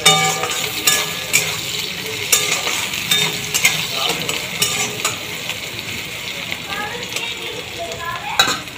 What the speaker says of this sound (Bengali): পেঁয়াজটাকে একটু লাল লাল করে ভাজা হতে থাক।